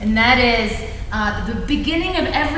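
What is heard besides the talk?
None of the usual background noises is heard.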